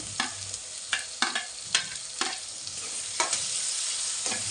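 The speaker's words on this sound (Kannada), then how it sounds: "ಇವಾಗ ಈರುಳ್ಳಿ ಎಲ್ಲ ಚೆನ್ನಾಗಿ ಫ್ರೈ ಆಗಿದೆ. ಟೊಮೊಟೊ ಹಾಕ್ತಿದ್ದೀನಿ." Chopped tomatoes go into a pan of well-fried onions for an egg dish, giving a steady close sizzle broken by repeated sharp scraping stirs of a spoon against the pan, with no talking.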